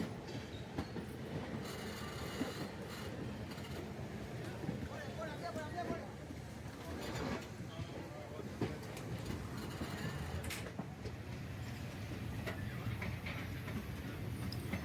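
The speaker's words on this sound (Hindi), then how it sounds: "चेन्नई एग्मोर स्टेशन से हमारे ट्रेन का डिपार्चर राइट टाइम पे होता है" A passenger train pulls out of Chennai Egmore station, its steady rumble and clickety-clack of wheels filling the clip with occasional squeals, continuous and fairly loud.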